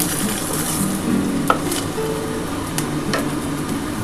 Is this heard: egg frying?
yes